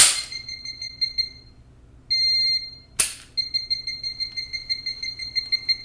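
The alarm on a Jerk Alert training device beeps in shrill, high electronic tones: a sustained burst, a brief pause, a steady tone, then a rapid run of repeated beeps. It is loud and close.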